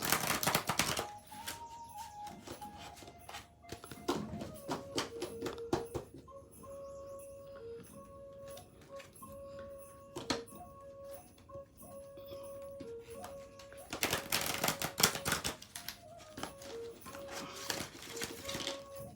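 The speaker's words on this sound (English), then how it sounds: "this is how I do shuffle cards in the beginning" Tarot cards being shuffled by hand, a fast run of soft papery flicks and taps with a few louder riffling bursts, close and quiet, no talking.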